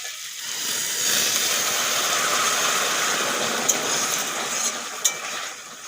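Hot water poured over potatoes fried with spices in a pan, giving a loud, even hiss and bubbling roar close by, with a couple of brief clinks near the end.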